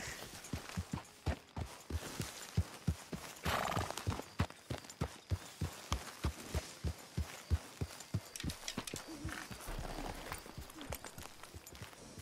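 Horse hooves in the video game Red Dead Redemption 2, walking in a steady, even clip-clop with a brief louder rustle partway through, heard fairly close over faint game ambience.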